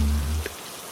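Rain falls outside a window as a soft, even hiss, while a low hum at the start fades away.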